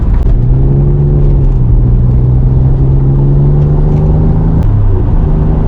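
A 1986 Nissan 300ZX with boost drives along, its engine humming in a loud, steady drone that rises slightly in pitch and holds close up, with no talking.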